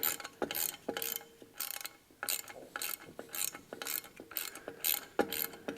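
A ratchet tightens clutch kit bolts, loud close bursts of rapid clicking in repeated strokes with short pauses between, alone without speech.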